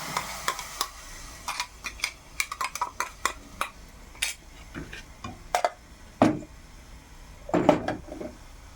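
A silver bowl is clinked and handled while a hair mask is prepared in a home kitchen, giving a series of scattered sharp metallic taps and clatters, close and fairly quiet, with no talking.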